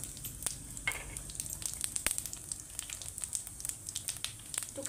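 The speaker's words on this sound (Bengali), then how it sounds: "এই যে গোটা জিরা দিয়ে দিচ্ছি।" Whole cumin seeds crackle and sizzle in hot oil in a pan for a fish curry, a dense hissing fry with scattered sharp pops that runs steadily without any voices.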